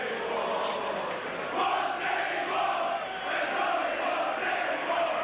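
A football crowd at a Leeds v Warrington match in 1989 chants in unison, a steady, dense roar of many voices rising and falling from the stands, heard at a distance and continuing without a break.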